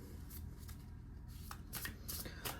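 Tarot cards being shuffled by hand, with a string of crisp riffling bursts and soft flutters at close range, one after another, with no one speaking.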